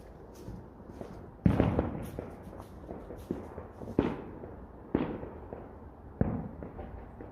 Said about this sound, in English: So these are the little impact rockets.